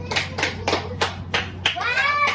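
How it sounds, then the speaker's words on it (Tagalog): A small child claps their hands during playtime at home, about eight sharp, light claps in an uneven rhythm, close by, with a voice and an adult's speech mixed in. "Astrid, pumalakpak ka din!"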